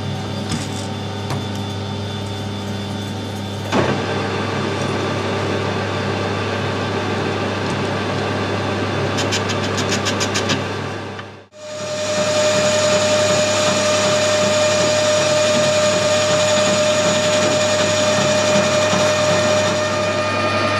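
A metal lathe machining a bush for a weld repair hums steadily with a constant mechanical whine, briefly drops out, then returns louder and higher as the headstock spins up to speed; no talking.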